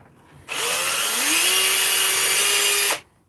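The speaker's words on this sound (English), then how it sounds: "that's the end of the drill noise" A power drill whirs steadily for about two and a half seconds, its motor pitch climbing as it spins up, then stops abruptly.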